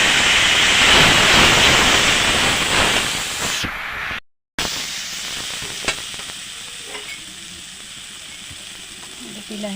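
A little water poured into a hot pan for a dal and fish-head dish bursts into a loud, close hiss that steadily fades over several seconds, followed by a brief silence and quieter bubbling.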